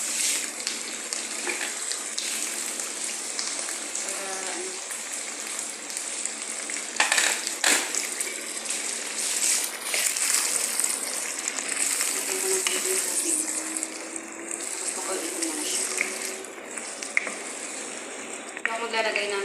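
Water runs into a hot cooking pan, a steady, loud hissing rush that continues throughout with small clinks and stirring noises mixed in.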